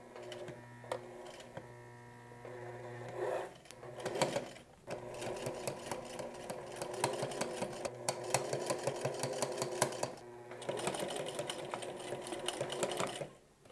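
A sewing machine stitching a jacket lining through thick layers, running in long buzzing bursts with brief pauses and restarts, close up and steady, with no talking.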